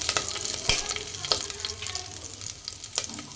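Cloves, cardamom, cumin, cinnamon and cut green chillies frying in hot oil for khichdi, crackling and sizzling up close with scattered sharp pops and stirring scrapes.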